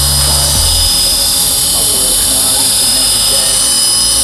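A Tarot 450 RC helicopter on its first flight gives a steady, continuous high-pitched rotor and motor whine throughout, fairly loud, with a low rumble briefly at the start.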